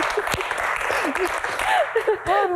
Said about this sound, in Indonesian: Tepuk tangan untuk Bang Hensa